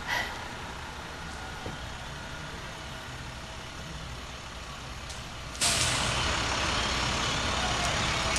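Luxury motor coach bus from a charter service rolling by in a small-town festival parade, its steady engine rumble and road noise continuous, growing louder and nearer partway through with a broadband surge, no talking.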